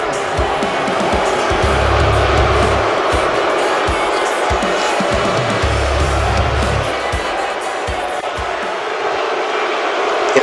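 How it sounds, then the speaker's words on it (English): A wrestling event crowd boos and jeers in a steady loud roar, with low sustained booing swells and scattered thuds and shouts throughout. "In the crowd here booing these two"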